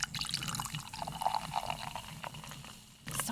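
Liquid poured from a freshly opened can into a glass, a steady trickling fill with small splashes and drips that runs close and fairly quiet for a few seconds, then a louder burst near the end.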